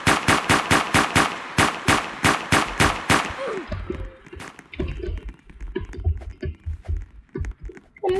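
A picked-up gun in Roblox Prison Life fires a fast, loud burst of evenly spaced shots for about three seconds, followed by quieter scattered game clicks and thumps.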